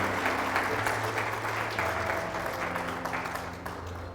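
A church congregation applauds in a fairly quiet, steady round of clapping that slowly tapers off over about four seconds.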